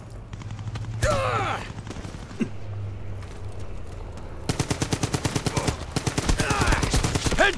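An M1941 light machine gun in Brothers in Arms 3 fires rapid sustained bursts, loud and close, with a few separate shots earlier and game sounds between the volleys.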